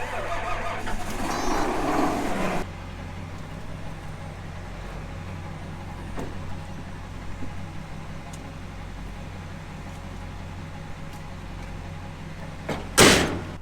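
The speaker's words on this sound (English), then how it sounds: "Cold start." A car engine cold-starts on a cold, sunny day, with a brief cranking burst at the start, then a steady low idle, and a sharp loud knock near the end.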